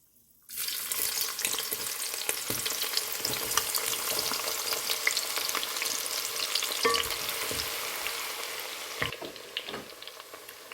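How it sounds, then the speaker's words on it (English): Diced onions dropped into heated palm oil for a vegetarian stew burst into a loud, dense sizzle that holds steady for about ten seconds, with a few faint utensil clicks and no talking. "So the palm oil is heated now and I'm going to fry the diced onions."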